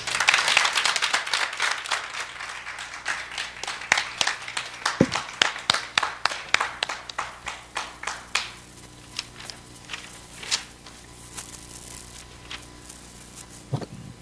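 Audience applause closing a parenting seminar talk, a burst of dense clapping that thins out over several seconds into scattered individual claps.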